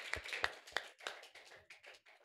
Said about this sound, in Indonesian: Tepuk tangan untuk Mbak Abel.